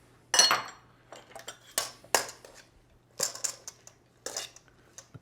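Quinoa kale salad with crumbled feta is mixed in a bowl, giving irregular close clinks and scrapes of a utensil against the dish in short bursts, with no talk.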